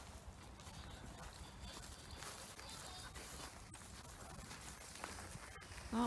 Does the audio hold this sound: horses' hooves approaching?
yes